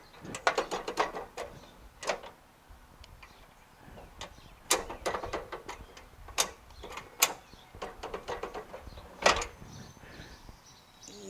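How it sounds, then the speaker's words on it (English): Deck height lever on a Craftsman LT1000 riding mower being worked up and down, moving the deck hangers: bursts of rapid metallic ratcheting clicks and clunks, close by, separated by short pauses. "As I move this lever, up and down, letting go of the button so it stays there"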